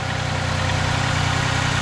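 A 2018 Toyota Kluger's 3.5 V6 idles quietly and steadily up close, a smooth low hum with a faint even pulse and no other sounds.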